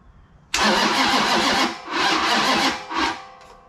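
A Mopar 440 Six-Pack V8 cranking loud and close, the starter churning in three bursts with brief pauses between them, the engine turning over without catching.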